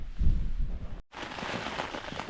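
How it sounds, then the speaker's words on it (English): Heavy rain drums on a tent, a dense low pattering that cuts out briefly midway and then returns as a brighter, steady hiss of falling drops. "raining heavy."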